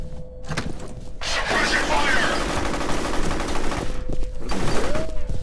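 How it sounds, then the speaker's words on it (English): Gunfire from the shooter game F.E.A.R., with dense bursts of shots and booming impacts running steadily through most of the clip and a voice speaking over the shooting. "They were shooting me from this direction."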